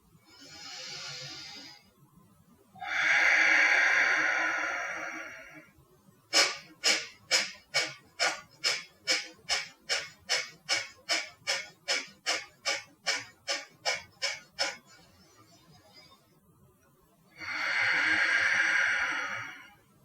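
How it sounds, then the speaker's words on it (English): Forceful breathwork: a long loud breath, then about eighteen rapid rhythmic sharp exhales pushed through the nostrils, ending in another long drawn breath, close and alone. "I was only breathing through my nostrils"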